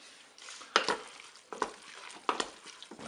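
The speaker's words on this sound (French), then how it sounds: "On mélange." One-pot spaghetti stirred in a Cookeo multicooker, a few scraping and clattering strokes against the pot at a steady pace, close by with a light sizzle underneath.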